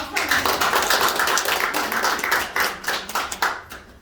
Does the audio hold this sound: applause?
yes